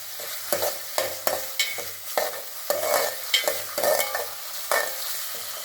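Tomato chutney sautés in a pan with a rhythmic series of spoon strokes scraping and stirring over a soft sizzle, each stroke distinct and close.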